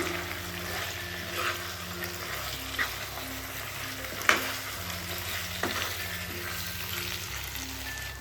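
Chicken sukka stirred in a pan with ground tomato-masala paste, a soft steady sizzle broken by scraping stirs and a few sharper clinks of the spoon, no talk.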